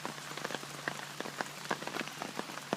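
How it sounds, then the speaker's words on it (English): Steady rain patters on the fabric of a Claytor jungle hammock during an all-night and all-day downpour, with sharp individual drops tapping close by over a constant wash of rainfall. "raining now for probably about 12 hours"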